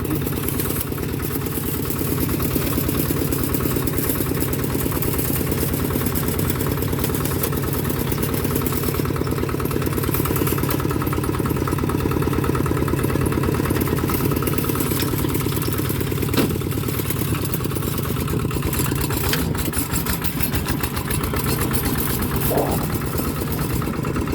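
A Toyota Vigo pickup with a manual gearbox idles steadily, a continuous close rumble with slight clattery vibration running unbroken throughout, and no speech.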